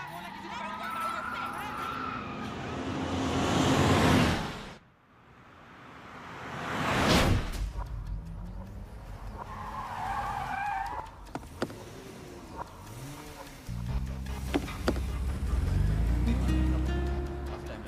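A car driven off in a chase, engine roaring and tyres swooshing past in loud surges with a sharp burst midway, shouting voices and other noises over and between the passes.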